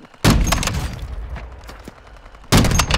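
Gunfire in Warzone 2.0 DMZ: two loud, close bursts of rapid shots, one near the start and one near the end, with quieter game noise and faint shots in between.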